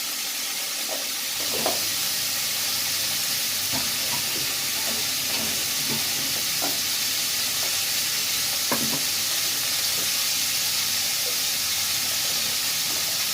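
Okra salan fries over a high flame, giving a steady loud sizzle and hiss with scattered stirring clinks and scrapes from the pan.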